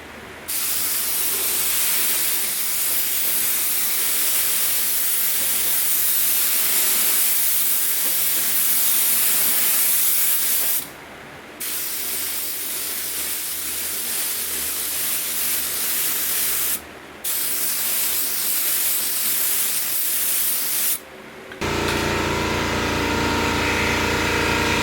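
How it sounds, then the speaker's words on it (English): Primer spraying onto a GSXR 1000 motorcycle fuel tank: a loud, steady airy hiss held in long bursts, broken by three short pauses, then cut off abruptly near the end. "So we're going to do another coat of primer on the GSXR 1000 tank."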